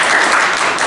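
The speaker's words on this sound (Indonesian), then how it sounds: "Tepuk tangan untuk kalian semua." A short, loud burst of classroom applause for vocational high school students after a career-planning group guidance session, dense clapping with no voices.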